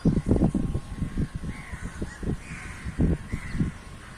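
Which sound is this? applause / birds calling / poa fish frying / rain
birds calling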